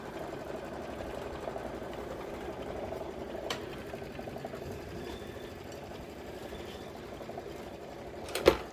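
An embroidery machine stitches steadily at a quilting table, giving a continuous, even mechanical whir with a fine rapid rhythm, moderately close, with a brief sharper click near the end and no talk over it.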